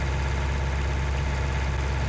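A little purple tractor in Farming Simulator 19 drones on steadily, a constant low engine rumble with no pauses or voices.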